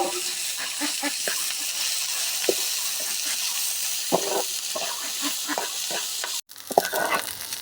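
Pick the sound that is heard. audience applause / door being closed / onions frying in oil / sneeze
onions frying in oil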